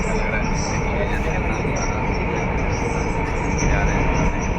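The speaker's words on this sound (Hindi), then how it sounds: "मेट्रो आ गई, यहाँ पे चढ़ेंगे इससे" A Delhi metro train rolls into a station with a loud, steady rumble and broadband rail roar that holds throughout, with no voices heard.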